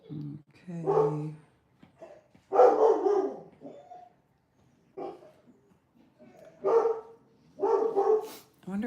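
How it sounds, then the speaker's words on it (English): Dogs barking in short clustered bursts, several sharp barks and yips heard fairly close, separated by brief silent gaps, with no talking. "while the dogs are doing all the barking, I might mute"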